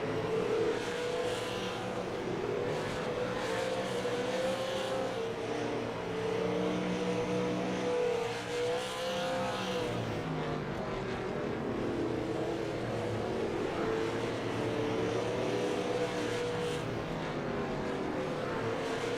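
DC Designs SLM race cars at Langley, engines droning and revving steadily as they pull out of a corner, a sustained loud drone.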